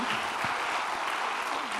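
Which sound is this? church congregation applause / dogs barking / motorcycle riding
church congregation applause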